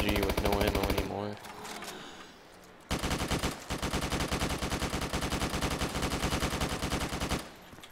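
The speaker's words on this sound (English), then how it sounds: "AK-47, that seems better than the SMG with no ammo anymore" Rapid automatic AK-47 fire in Black Ops 3 Zombies, loud sustained bursts of closely spaced shots, a short burst, a pause, then a long unbroken stream before cutting off.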